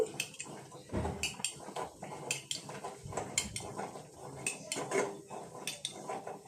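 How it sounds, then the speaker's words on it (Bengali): A wooden ghutuni masher churns cooked dal in a pot for sukhto, producing repeated soft knocking and swishing strokes in a steady rhythm, close by and fairly quiet. "এখন ডালের ঘুটুনিটা দিয়ে আমি সুন্দর করে ঘুটে দিচ্ছি।"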